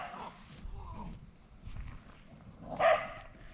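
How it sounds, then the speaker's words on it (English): Dogs bark a few times in the distance beyond a garden, faint and intermittent, with one louder bark standing out near the end over low background noise. "Oh, we got some dogs acting out over there."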